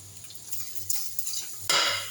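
Rice frying in butter in a pot, a soft sizzle under scraping stirs with a spoon, faint and close, with a sharper burst of sizzle near the end.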